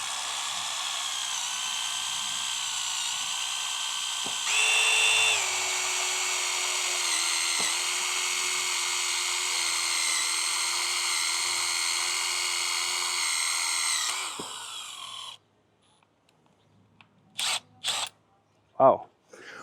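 A step bit drills through metal with a loud, sustained high whine lasting many seconds that drops slightly in pitch midway, then cuts off and leaves a few short bursts.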